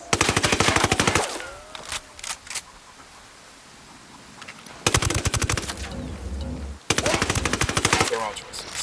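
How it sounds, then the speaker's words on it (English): Bursts of rapid automatic gunfire in the video game Ghost Recon Wildlands, loud rattling volleys separated by quieter stretches with a few isolated shots. "Tango heard the gunshot."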